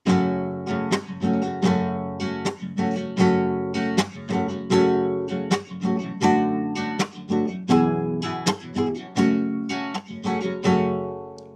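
An acoustic guitar strummed in a repeating six-stroke rhythmic pattern, with sharp downstrokes and lighter upstrokes cycling steadily, close and clear with no voices.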